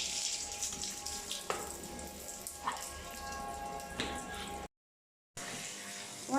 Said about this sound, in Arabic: يعني مش هسيب اي حاجه لغايه البوابه هغسلها بالميه.